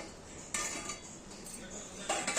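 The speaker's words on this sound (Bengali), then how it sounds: "আমরা এখানে ঢাকাটা খুলে একবার দেখে নেব" A plate used as a lid is lifted off a pot of vegetables simmering with fish head for Bengali chhyachra. Two crisp clinks of crockery on metal stand out over a faint background hiss.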